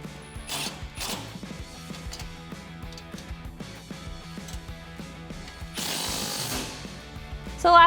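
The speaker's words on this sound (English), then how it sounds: "we can tighten up this bolt on our support bracket using a 6mm Allen socket or Allen key and a 16mm wrench" Tightening a bolt on the support bracket of a 2016-2023 Tacoma Pro Series grille guard with a 6mm Allen socket and 16mm wrench gives a string of close ratcheting clicks and metallic taps, irregular and fairly quiet.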